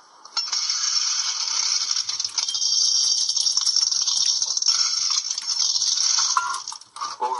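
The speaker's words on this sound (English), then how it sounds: "What you heard there was a quarter of aniseed balls being scooped out of a jar, weighed, and then bagged up" Aniseed balls scooped from a jar in an old sweet shop, then weighed and bagged: a continuous bright rattling and clattering of hard sweets, with shifting scrapes and rustles, close and fairly quiet, no speech.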